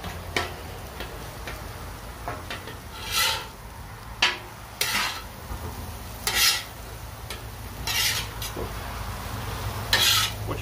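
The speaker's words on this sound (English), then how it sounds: "Now you spread it out a little bit and let the eggs cook." Eggs cooking in a pan for egg roll in a bowl, a quiet continuous sizzle broken by several short scraping strokes of a utensil spreading them out, no talking.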